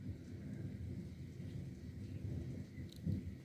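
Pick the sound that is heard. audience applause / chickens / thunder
thunder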